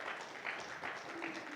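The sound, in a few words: congregation applause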